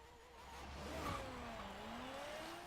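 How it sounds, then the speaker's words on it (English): A 1995 Nissan GT-R Nismo with a rallycross build launches in Forza Horizon 3, its engine note climbing in pitch and loudness as it pulls away, with no talk over it. "let's see how this thing launches and how it sounds"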